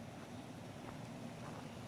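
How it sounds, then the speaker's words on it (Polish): Water spilling over a small weir on a mountain stream in the Owl Mountains near Bielawa, heard as a steady, broadband rush with no break, fairly faint and alone. "A przed nim również gwałtownie spadająca woda. Mały, mały próg spowalniający."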